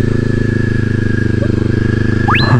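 A Kawasaki Ninja 400 motorcycle on a winding road gives a steady, close engine drone with a pulsing buzz and constant wind noise as it cruises along.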